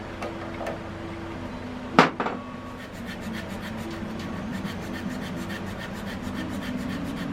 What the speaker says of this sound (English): I'm using 400 grit sandpaper to clean these points